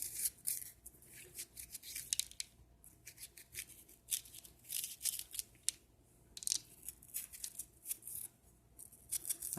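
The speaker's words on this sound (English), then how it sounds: "So I just cut them in half and then take the seeds out" Knife work on halved hot peppers as the seeds and ribs are scraped out, heard as a close, quiet run of crisp snipping and scraping strokes in an irregular rhythm, with no talking.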